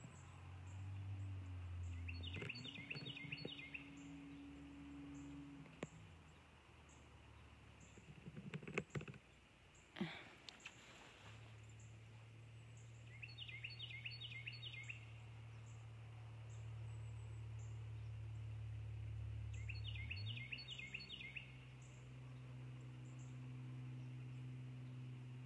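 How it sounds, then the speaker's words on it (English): A bird sings outdoors in short, high, bright phrases, repeated about three times with pauses between them, fairly faint over low rumbling background noise. "Yeah, we're going to listen to that beautiful bird."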